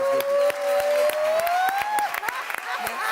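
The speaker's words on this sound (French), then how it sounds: "je vais me lever et je vais t'applaudir encore" Applause for a singer at a blind audition on a televised singing show, with scattered sharp claps and crowd cheering beneath a sustained, gliding whistle-like tone, while a voice speaks over the clapping.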